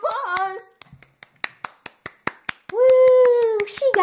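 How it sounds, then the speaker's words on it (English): A few people give a short round of applause during a jelly bean taste challenge, about a dozen separate hand claps in a quick loose rhythm, close by, framed by excited shouts and a whoop. "Round of applause!"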